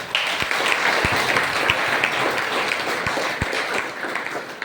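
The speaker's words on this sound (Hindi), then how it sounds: "तो एक बार तालियां होनी चाहिए उसके लिए जिसने आपको यहाँ पे इनवाइट किया" An audience applauds at a direct-selling education seminar, a dense, steady wash of clapping with a few sharp louder claps, sustained evenly throughout.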